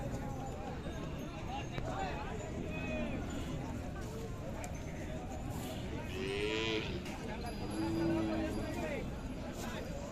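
A Khillar cow moos at a busy cattle market in Sangola, its drawn-out calls rising over steady crowd chatter and people talking nearby, with one call in the middle and a stronger, longer one near the end.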